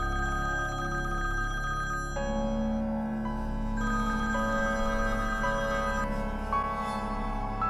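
A telephone rings in a drama scene, a steady electronic ringtone repeating in a looping melodic pattern, loud and continuous over a soft musical background, with no voices.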